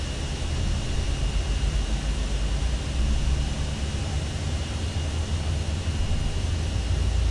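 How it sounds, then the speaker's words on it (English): Aircraft engines spool up in the X-Plane 12 flight simulator, producing a steady, dense broadband roar that holds level throughout without voices. "Engines are starting."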